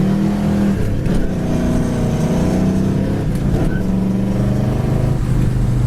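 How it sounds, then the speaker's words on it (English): A 1964 Pontiac GTO accelerating hard, its loud engine droning steadily and climbing through the gears with a brief scratch on the shift into fourth, heard close from inside the car. "Fourth gear scratch."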